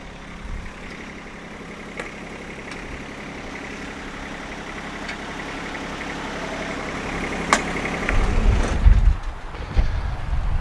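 A John Deere 1025R compact tractor engine runs and drives forward, a steady low droning rumble that grows louder and rougher toward the end, with no talking.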